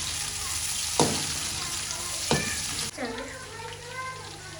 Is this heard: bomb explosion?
no